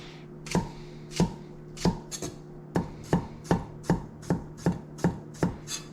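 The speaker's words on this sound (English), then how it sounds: "I'm cutting up green onions, ginger, and garlic" A knife chops green onions, ginger and garlic on a cutting board in steady, evenly spaced thuds, a dozen or so crisp close strikes that quicken slightly toward the end, with no talking.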